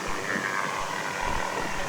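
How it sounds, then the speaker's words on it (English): A news helicopter passes behind the stands at a high school sports game, a steady, fairly loud rotor and engine roar with broadband rushing that holds throughout the short moment. "there was a helicopter just passed behind us"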